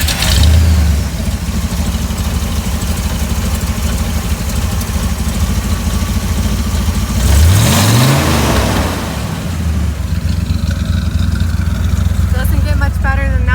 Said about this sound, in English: I know all of you guys want to hear the roar of this engine, so I'm going to start it up for you